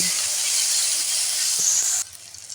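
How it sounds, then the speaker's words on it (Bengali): Chili powder frying in oil in a pan for vegetarian aloo paratha, a steady loud sizzling hiss that cuts off sharply near the end, leaving quiet background. "লঙ্কা গুঁড়ো এটাকে আমি এইভাবে ভেজে নেব"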